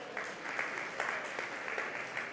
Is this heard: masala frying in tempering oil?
no